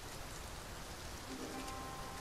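Rain falling in the video game Dragon's Dogma 2, a soft, steady hiss of drops with no clear pattern, faint and continuous, a brief low tone rising near the end.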